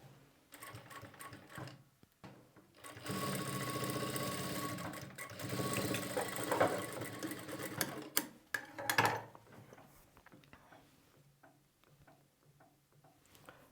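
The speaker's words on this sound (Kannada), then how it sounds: "ಈ ಹೊಲಿಗೆ ಹಾಕುವಾಗ ನಿಮಗೆ ಆ ಅಡ್ಜಸ್ಟ್ಮೆಂಟಿಂಗೆಲ್ಲ ಕರೆಕ್ಟಾಗಿ ಸರಿ ಹೋಗುತ್ತೆ" A sewing machine stitches piping onto fabric, whirring in a fast, steady run for several seconds between a few short ticks and clicks, then slowing to sporadic taps, close and fairly quiet.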